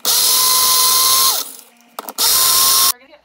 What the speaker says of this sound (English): I'm gonna grind this up until it becomes a flour.